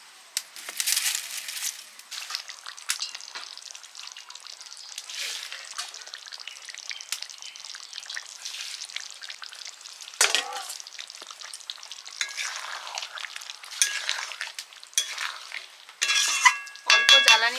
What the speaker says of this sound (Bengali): অল্প জ্বালানিতে ধীরে ধীরে কষানো হচ্ছে।